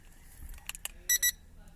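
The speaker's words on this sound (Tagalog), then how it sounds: "2 beep sound." Two short, bright electronic beeps in quick succession from a smart start push-button system on a Mitsubishi Mirage Asti when an RFID tag is used, close by over faint background noise and a few clicks.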